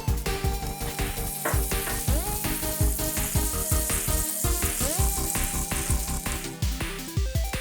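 Butter sizzles and crackles in a hot pan on a stovetop at medium heat, a steady bright frying hiss with rapid pops throughout, loud and close with no voices.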